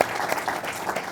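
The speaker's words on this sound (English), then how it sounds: "if we could give a little applause to Deanna" A short burst of crowd applause at a housing partnership announcement, a quick moderate clatter of many hands lasting about a second.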